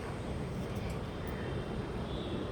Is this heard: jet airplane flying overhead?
yes